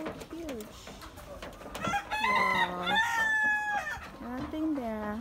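Chickens clucking and a rooster crowing nearby, with harmonic calls rising and falling over a busy farmyard background.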